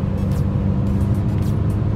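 Mercedes E53 AMG accelerating on its own to a preset 130 km/h, a loud continuous engine and road roar heard from inside the car with no pauses.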